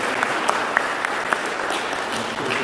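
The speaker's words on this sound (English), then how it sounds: "But Bob Golden, if you give him a round of applause" A church congregation at a deacon's first Mass claps in a dense, even round of applause, with a few louder individual claps standing out throughout.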